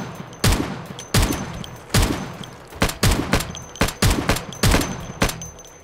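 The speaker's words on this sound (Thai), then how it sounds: "ยิงตัวข้างหน้าไม่โดน" Sharp rifle shots ring out in the zombie survival game Project Zomboid, eight loud, close cracks spaced roughly every three-quarters of a second, each trailing off into a short echo with no talking over them.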